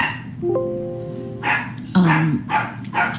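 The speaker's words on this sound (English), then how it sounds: "He's barking at his food. What are you barking at?" A dog gives a few short, sharp barks close by, spaced apart, with a person's voice speaking between them.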